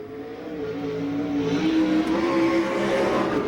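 USAC National Sprint Car with a Claxton engine and Stealth chassis on a timed lap at Rossburg, Ohio, its engine droning loud and steady as it carries through the lap, pitch rising slightly.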